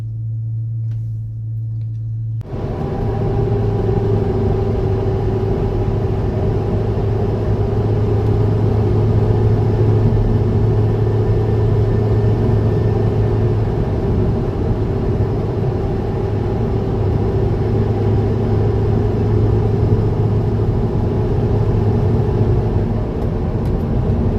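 An SN95 Ford Mustang GT V8 idles while warming up, then a steady, loud engine rumble and road drone carry on without a break, heard close with no talking.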